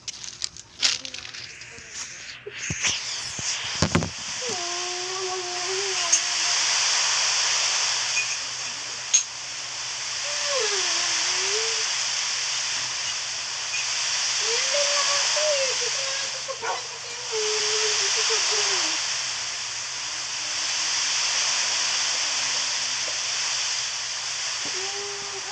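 Running water mixed with soap sprays in a steady, broad hiss that swells and eases in slow waves over about twenty-five seconds, with clattering handling noises early on and a faint voice underneath.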